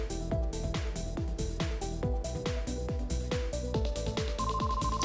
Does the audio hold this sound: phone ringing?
yes